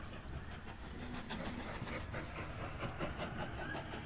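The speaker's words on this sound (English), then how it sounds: "Should be a nice looking train with 2 engines." Two-engine train in the Mashinky video game rolling steadily along the track, a continuous dense rumble with faint rhythmic clatter, no one talking.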